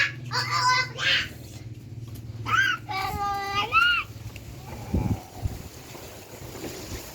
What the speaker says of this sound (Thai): ลมพัดพี่น้อง